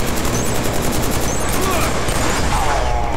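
Rapid, loud SMG bursts in Killzone 3 on the Frozen Dam map, a continuous stream of closely spaced shots over a rumbling battle background.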